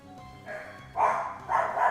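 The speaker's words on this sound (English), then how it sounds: "Here, my dog's telling me that somebody's here." A household dog barks at someone at the front door, giving three or four muffled, mid-pitched barks in quick succession that grow louder toward the end, heard from a short distance away in a quiet room.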